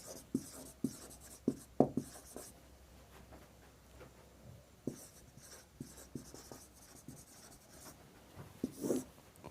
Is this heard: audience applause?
no